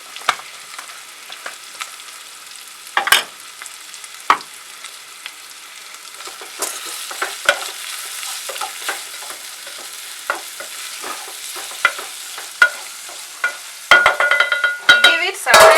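Ground pilau masala spices fry and sizzle in a pan, a soft steady hiss broken by occasional sharp stirring scrapes and clinks, growing busier toward the end.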